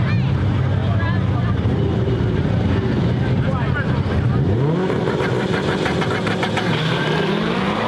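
A Honda and a Corvette launch off the drag strip starting line in a street car race, engines roaring loudly with rising revs as they pull away, an announcer talking over the noise throughout.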